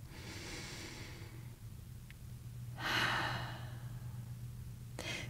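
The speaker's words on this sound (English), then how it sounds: "And I invite you to take a breath." A person takes a slow breath during a guided meditation: a soft inhale, then a louder, longer exhale near the mic, and a brief sharp breath at the end over a low steady hum.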